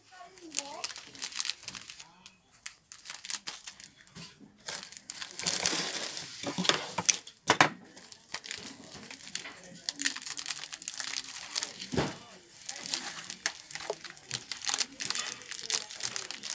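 Wrapping paper and plastic sheeting crinkling and rustling up close while a small bouquet of a single rose, baby's breath and lisianthus is wrapped, in repeated bursts, with a person talking at times.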